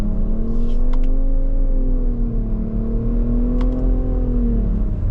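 A 2025 Nissan Rogue Platinum AWD engine pulls up from slow speed, a steady droning whir that rises and holds as the crossover accelerates, loud and close from inside the cabin.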